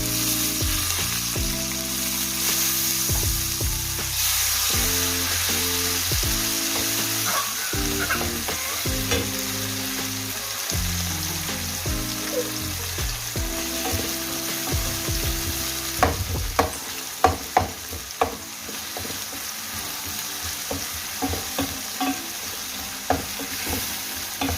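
Tomatoes and green chilies sauté in a pan for vermicelli biryani, giving a steady close sizzle that later gives way to several sharp spoon scrapes and clinks as they are stirred.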